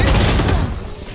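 Gunfire in the Valorant video game, a short loud burst of rapid shots that cuts off and decays quickly within about a second.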